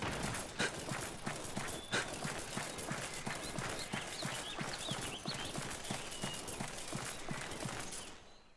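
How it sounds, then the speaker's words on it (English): The Kelpie monster in Monster Hunter Generations Ultimate gives off horse-like sounds, a steady run of hoof-like clopping beats with occasional whinny-like calls, moderately loud amid game ambience. "That Kelpie sounded like a horse then."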